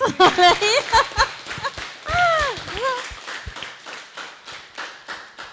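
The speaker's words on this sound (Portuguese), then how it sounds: "Gente, palmas para a Beatriz." Audience applause for a speaker in a morning public speaking class, with scattered close hand claps and taps, people cheering and calling out over the clapping as it tapers off.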